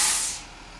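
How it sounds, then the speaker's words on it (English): A school bus stops outside, giving a loud burst of air-brake hiss that fades within a second, heard from indoors. "I got a school bus out there stopping."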